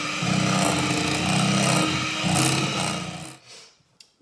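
An electric mixer on low speed whisks chocolate ganache cake frosting, a steady motor whir with a rhythmic churning that pulses roughly every second, close and fairly loud before cutting off near the end.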